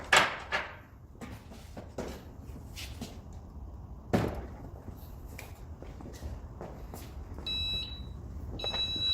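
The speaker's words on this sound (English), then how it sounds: "When you turn on the printer and connect the printer with the CISS, you can see this alarm." An HP 8720 printer with a Monster OMEGA continuous ink supply system attached gives its ink sensor alarm, two short electronic beep bursts late on, set against faint handling clicks and background hum.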